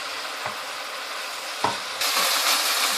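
Chopped green onions sizzle and fry in a pan for Chinese-style desi fried rice, with a steady broadband hiss, a couple of soft utensil knocks, and the sizzle swelling louder toward the end.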